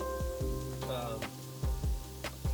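Sliced onions and paneer with cheese sizzle in a pan, a soft steady frying hiss running under a person talking, with occasional small pops and utensil clicks.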